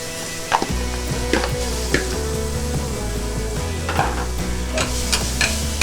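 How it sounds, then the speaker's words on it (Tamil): Grated carrots tossed into hot ghee for carrot halwa give a steady close sizzle with scraping stirs, under a low background hum and without speech. "இப்போது கேஷ்யூ ஃப்ரை பண்ண நெய்லேயே நான் இந்த கேரட்டை ஆட் பண்ணிக்க போகிறேன்"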